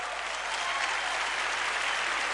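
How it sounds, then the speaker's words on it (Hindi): A studio audience at a Diwali game show gives contestant Kinchuk a steady, thick wash of applause, continuous and fairly even throughout with no voices standing out. "जोरदार तालियां किंचुक के लिए।"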